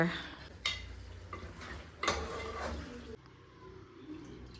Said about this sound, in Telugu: చింతపండు పిసుకుతున్నాను